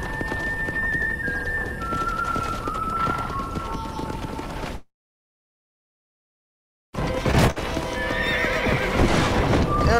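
Horse hooves clip-clop steadily with a couple of whinnies in Red Dead Redemption, a western video game, loud and close throughout, interrupted by a brief silent gap midway.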